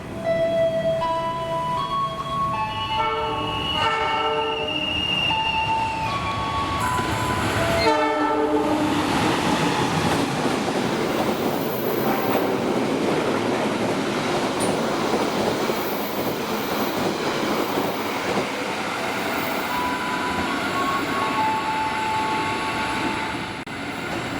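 The Argo Sindoro train, led by a flower-decorated locomotive on its first run, sounds a loud, sustained multi-tone horn, then passes close by with a steady roar of wheels and rolling stock that continues throughout, with no voices.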